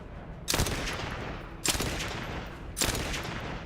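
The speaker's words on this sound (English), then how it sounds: "This is a shotgun pistol?" Three separate blasts from a shotgun pistol in the shooter game The First Descendant, each a loud sharp burst spaced about a second apart over a constant background hum.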